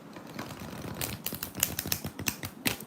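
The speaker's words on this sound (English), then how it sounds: "I'm just going to shuffle this deck" A deck of tarot cards is shuffled up close, giving quick crisp riffling snaps and flutters in an irregular rapid rhythm over about three seconds, with no talking.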